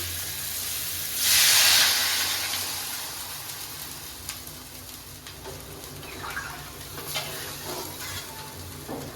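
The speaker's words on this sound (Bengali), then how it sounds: "এবার আমি পরিমাণ মতন জল দিয়ে দিচ্ছি।" Water splashed into a hot pan of fried river katla fish for a curry, a loud hissing sizzle bursting up near the start, then settling into a steady simmering crackle with small stirring clinks.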